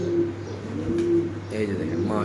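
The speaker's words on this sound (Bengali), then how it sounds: "এখানে আছে এক জোড়া বলগা কবুতর" A pair of Bolga pigeons offered at a market coo softly and repeatedly close by, while someone talks over them.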